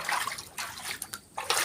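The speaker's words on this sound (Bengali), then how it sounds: "ঘরের ভিতরে দেখো কিরকম জল হয়ে গেছে।" Water inside a flooded house after heavy rain, a soft sloshing and trickling wash that comes and goes in short bursts, close by and fairly quiet, with no voices.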